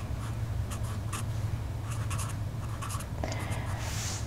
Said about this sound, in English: So copy the bigger number and write underneath the smaller number